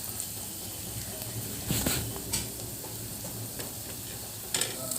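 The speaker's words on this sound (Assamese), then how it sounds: "এতিয়া ভালদৰে মই হালধিখিনি মিক্স হ'বলৈ লৰাই দিম আৰু আদা ৰচুনৰ যিটো কেঁচা গোন্ধটো যোৱালৈকে অলপ সময় ভাজি থাকিম" Turmeric, ginger and garlic sizzle steadily in a pan while a spoon stirs, scraping and clinking against the metal a few times, close and fairly quiet.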